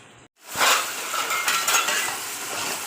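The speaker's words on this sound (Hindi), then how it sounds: "अब इसको साथ साथ हम फ्राई करते जाएंगे और पलटते जाएंगे" Mutton frying with onions in a karahi pan, turned with a utensil: a loud hiss surges up after a brief silence and carries on as a dense, crackling sizzle with faint clinks of metal on the pan.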